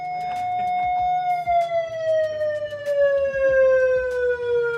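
Police car siren wailing with a long, slowly falling tone, fairly loud and steady throughout, with background clatter and faint engine noise underneath.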